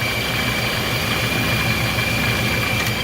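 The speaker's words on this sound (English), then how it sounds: "So I'm going to take it for a quick spin and see how this belt holds up as far as slipping" Car engine fitted with a stage 1 Procharger supercharger kit and its drive belt runs at a steady idle, a loud continuous low rumble with a faint high belt whine held throughout, no talking.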